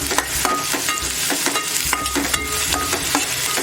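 Chopped onion frying in a kadhai is stirred over a constant loud sizzle, with close, repeated spoon scrapes and knocks against the metal at a quick, uneven pace.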